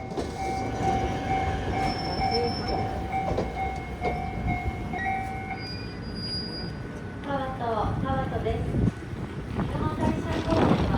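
A train arriving at a station in Japan rumbles along steadily with rattling wagon noise, high squealing tones, and people talking in the background.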